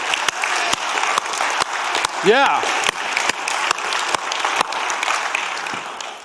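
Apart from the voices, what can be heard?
congregation clapping in church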